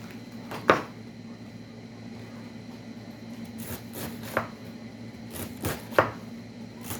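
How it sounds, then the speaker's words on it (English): Knife cutting through a big cabbage to halve it for coleslaw, a few crisp crunching chops spread out over several seconds, close and fairly quiet over a steady low hum. "I'm going to cut this in half because it's such a big cabbage"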